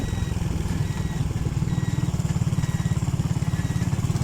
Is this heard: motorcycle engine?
yes